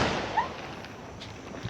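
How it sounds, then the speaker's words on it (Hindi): Diwali firecrackers bursting at a house gate, a few muffled pops and thuds amid hissy background noise, not very loud. "हम यहीं फोड़ेंगे पटाखे, यहीं फोड़ेंगे अपने गेट पे देखो।"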